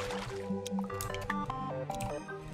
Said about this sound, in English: Oh, it's just dripping water, okay.